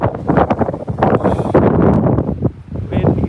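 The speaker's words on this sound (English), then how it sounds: "Windy, right?" Strong wind buffeting a microphone outdoors on a cold city street, rough gusting rumble that swells and dips throughout, close and loud, with a voice faintly audible beneath it.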